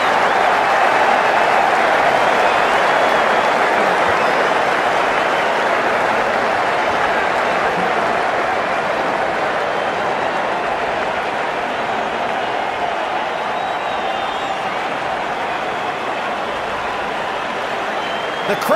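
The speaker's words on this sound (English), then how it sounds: "The crowd's on their feet," Stadium crowd in the Cricket 19 video game cheering and applauding in a steady, dense roar that holds at high level throughout without pause.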